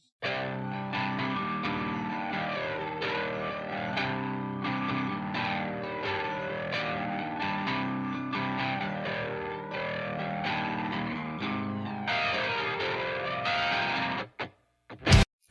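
Heavily distorted electric guitar tones drive a dense, loud, sustained rock song with full-band accompaniment, playing continuously before cutting off abruptly near the end with a few short bursts.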